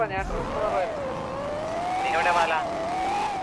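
A loud, noisy engine on the Sulthan 2.0 vehicle sounds close, with a sustained wavering wail that rises and falls like a siren, plus a brief sharper burst at the start and a louder stretch past the middle.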